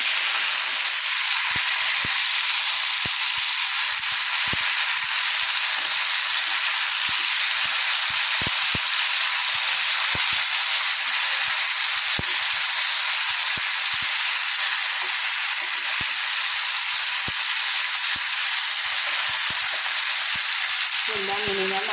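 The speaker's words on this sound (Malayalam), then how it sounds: "നന്നായിട്ടൊന്ന് ഫ്രൈ ആയി വരട്ടെ അതുവരെ വെയിറ്റ് ചെയ്യാം" Snakehead fish fries in a pan with a constant loud, bright sizzle and hiss that runs unbroken, dotted with small pops and the occasional soft clatter near the end.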